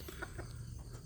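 Free-range village chickens give a few soft, short clucks in quick succession, faint and close against quiet background hiss.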